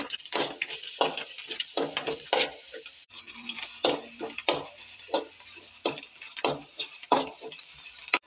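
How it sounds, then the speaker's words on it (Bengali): Eggs are stirred and fried into a scramble in a pan, with a soft sizzle under repeated rhythmic scrapes and taps of a spatula, close and moderately loud, with a brief pause around the third second. "নাড়াচাড়া করে ডিমের ঝুড়ি করে দিতে নেব এটাকে।"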